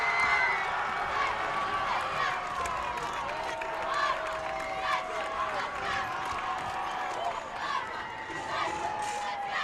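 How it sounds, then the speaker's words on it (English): A high school football crowd at an Ottawa Cyclones home game against Tonganoxie cheers and claps, a steady, fairly distant roar lasting throughout, with a commentator's voice talking over it. "That brought a little bit of life back into this Ottawa Cyclone crowd as they try to get loud here."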